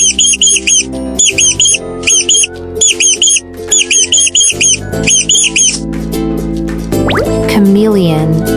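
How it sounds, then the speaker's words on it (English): A mouse squeaking: loud, rapid high-pitched squeaks come in short regular bursts of clustered chirps, with a steady musical background that continues after the squeaks stop. "Mouse."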